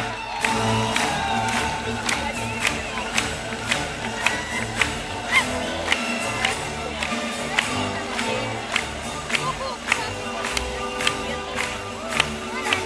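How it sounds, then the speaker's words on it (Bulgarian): A festival audience at an international folklore festival in Plovdiv applauds and cheers continuously, with dense clapping, scattered whoops and crowd noise filling the whole stretch. "Моля вашите аплодисменти и за Словения!"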